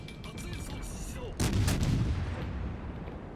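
Heavy naval gunfire in World of Warships Legends, with shells fired at the Japanese destroyer Yudachi: a sudden loud, booming salvo bursts out after a quieter stretch, then rumbles on under the ongoing battle noise.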